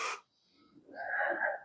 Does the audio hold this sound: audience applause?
no